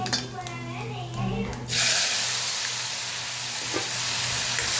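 Mustard seeds, cumin and asafoetida hit hot oil for chole with a sudden loud, steady sizzle that carries on to the end, after a brief stretch of someone talking over a low hum.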